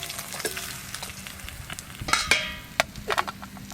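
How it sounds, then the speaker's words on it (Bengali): Fish sizzle and crackle as they fry in hot oil, a steady close frying hiss punctuated by sharper spatters and stirring clicks toward the end. "দেখতে দেখতে এই মাছগুলো ভালো করে ভাজা হয়ে গেল।"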